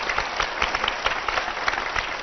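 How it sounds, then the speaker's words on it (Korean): A church congregation applauds a pastor, a dense, even burst of many hands clapping together at close range. "목사님께 다시 한번 큰 박수 부탁드리겠습니다"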